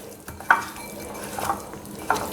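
Fish being stirred in a frying pan for a simple fish fry, with a few distinct scraping clinks of the utensil against the pan over a soft, steady sizzle.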